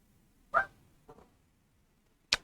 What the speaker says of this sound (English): that's my other dog